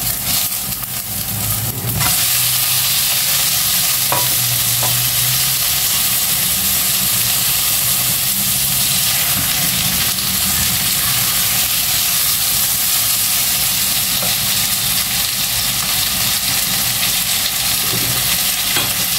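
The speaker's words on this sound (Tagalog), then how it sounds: "Ayan, nag-brown na yung sugar. So, ilagay na natin yung pork." Pork ribs dropped into browned, caramelized sugar in a hot pan, giving a loud, continuous close-up sizzle and hiss after a brief clatter at the start.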